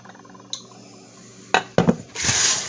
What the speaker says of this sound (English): I'll stir it up a little bit